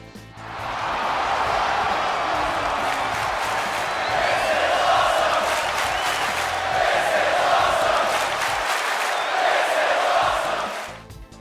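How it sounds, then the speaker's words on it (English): Arena crowd in the WWE 2K20 wrestling video game roaring steadily through a finisher, a dense wall of cheering and chanting voices that holds loud for about ten seconds before cutting off. "it also adds a "This is awesome" crowd chant to your finisher as well"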